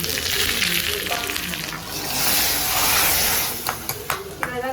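Curry leaves sizzle loudly in hot oil as tempering for kuzhambu in a home kitchen, a steady close crackling hiss with a brief swelling surge midway and a few sharp pops near the end.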